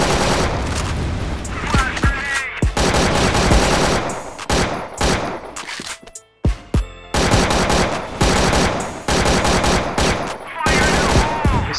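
Rapid automatic gunfire in the CrossFire online shooter game rattles in long, dense bursts, loud and close, with brief gaps and distant shots mixed in.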